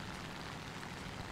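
A fighter plane's engine roars steadily in War Thunder, a continuous loud broadband drone that holds evenly with no breaks for the whole short stretch.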